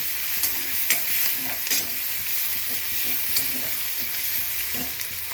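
Poha being stirred and roasted in a pan for street-style poha gives a steady dry sizzle with soft scraping stir strokes recurring every second or so, close and continuous, with no voices.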